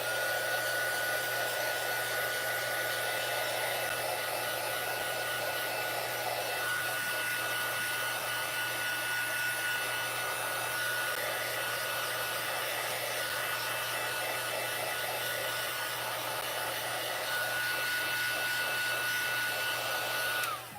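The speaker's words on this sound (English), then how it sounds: "I'm going to take the heat gun to this and see if that goes down a little bit." A heat gun blows hot air over a watercolor card, a loud, steady whirring hum with a high whine that runs unbroken and close for about twenty seconds before cutting off, with no talking.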